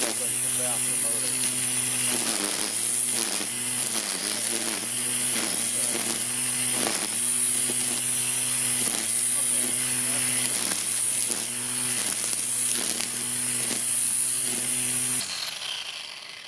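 A Makita string trimmer (weed eater) runs steadily at high speed, a loud continuous motor whine with slight rhythmic wavering throughout, then cutting off near the end.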